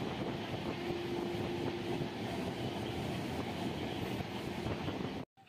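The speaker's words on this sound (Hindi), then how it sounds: "स्टेशन से निकलने के कुछ समय बाद ही हमारी train near about 80 kilometre per hour की स्पीड पकड़ ली" An Indian passenger train running at about 80 km/h on the way to Varanasi, heard from the open door as a steady loud rumble of wheels and rails, with a brief dropout near the end.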